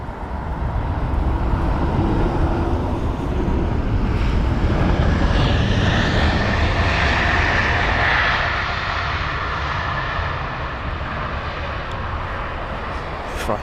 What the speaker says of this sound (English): We've got a Swiss A220-100 up next. That's going to be the arrival from Geneva